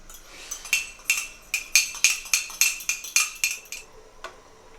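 A spoon clinks repeatedly against the side of a container while stirring to dissolve a vegetable stock cube, about a dozen quick, bright taps in a steady rhythm, close and fairly loud, with no talking.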